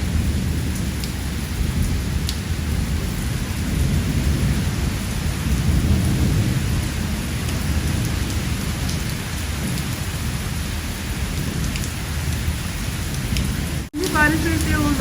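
Heavy monsoon rain pours steadily in Lahore, a dense continuous hiss with low rumbling thunder rolling through, loud and close, with a brief sharp break near the end.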